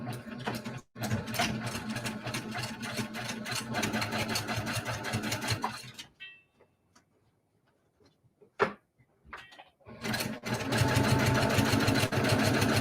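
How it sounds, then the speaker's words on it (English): Sewing machine stitching binding onto a quilt, a loud, steady mechanical whir that runs for about six seconds, pauses with a few faint clicks and handling sounds, then starts up again. "So let me sew it, and I'll show you guys what it looks like."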